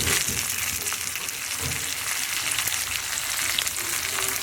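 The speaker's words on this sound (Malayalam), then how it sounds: "ഒന്ന് പൊട്ടി വരുമ്പോഴേക്കും നമുക്ക് വറ്റൽമുളക് ആഡ് ചെയ്ത് കൊടുക്കും" Halved dried red chillies fry in hot oil for a dry mango pickle, giving a steady, close crackling sizzle throughout.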